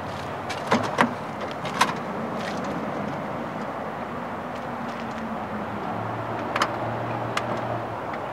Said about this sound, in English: Power automated doors. They close too.